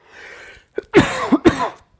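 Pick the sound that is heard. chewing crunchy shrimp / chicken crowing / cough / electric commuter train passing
cough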